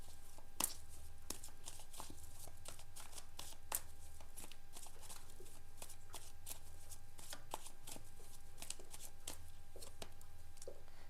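Tarot cards being shuffled by hand to draw a clarifier card, a steady run of crisp riffling snaps and soft pattering over a low room hum, with no talking.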